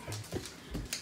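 A puppy whimpers in short, high, breathy cries, three or four brief whines in quick succession, close and fairly loud with no talking.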